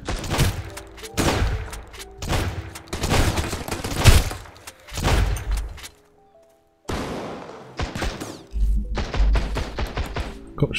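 Bursts of gunfire in the survival game Sunkenland, loud repeated volleys separated by short gaps, one near-silent pause, then more shooting.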